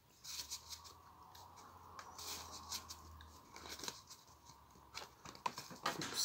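Tarot cards shuffled and drawn close by, soft papery snips, flicks and slides in irregular clusters over a faint low hum, quiet and intimate, growing a little busier toward the end, with no speech.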